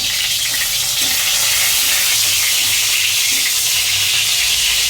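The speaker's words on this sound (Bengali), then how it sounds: "আমি এবার একটা লঙ্কা দিয়ে দিচ্ছি কাঁচা লঙ্কা আর তার মধ্যে এবার এটা গরম হয়ে গেছে তেলটা" Green chili dropped into hot oil in a Bengali kitchen while making potol dolma, a steady hissing sizzle holding at an even level throughout with no talk.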